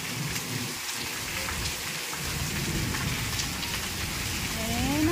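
Steady rain falling on a street outside, a dense, even hiss of drops spattering on surfaces, fairly loud and continuous throughout with no speech.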